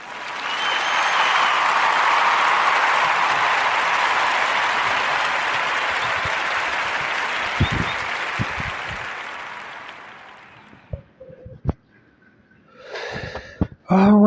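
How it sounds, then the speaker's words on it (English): A podcast audience breaks into loud, sustained applause for a local Los Angeles cafe, the clapping swelling quickly and holding steady before tapering off around ten seconds, followed by a few scattered sounds and brief voices. "Give a warm round of applause for the South LA Cafe"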